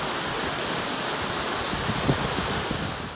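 Tumalo Falls on Tumalo Creek roars in a snowy setting, a steady, loud wash of rushing water with no voices.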